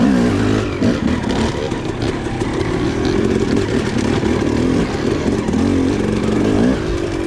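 Two-stroke dirt bike engine close up while riding, revving loud and continuous with a buzzy, raspy drone that rises and falls slightly across the whole stretch.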